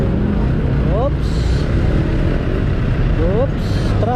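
Congested street traffic in Olivares, Parañaque, rumbles steadily close by, punctuated by two quick rising chirp-like whines, while someone speaks over the engine noise.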